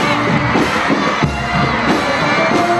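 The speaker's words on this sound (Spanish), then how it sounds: "Dándose el aplauso" A parade crowd in Jauja cheers and shouts steadily as a school delegation marches past, children's voices and whoops mixed into a continuous, close, fairly loud roar.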